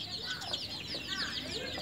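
Young country chicks on an Indian native chicken farm chirp continuously in a dense, high-pitched chorus, close and steady throughout, with a faint voice underneath.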